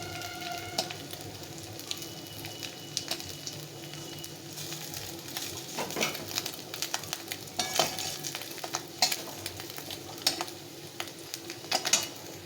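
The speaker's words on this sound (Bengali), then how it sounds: "বাকি মাছগুলো এভাবে ভেজে নেব সামান্য একটু তেল দিয়ে।" Small river fish fry in a little oil with a close, crackling sizzle, dotted with frequent pops and spatters that grow busier toward the end.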